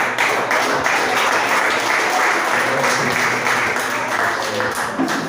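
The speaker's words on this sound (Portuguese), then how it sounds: "O Senhor exalte este Deus com palmas." A Portuguese-speaking Pentecostal congregation at a live family worship service applauds in praise to God, with sustained, dense clapping filling the room and a hint of voices beneath.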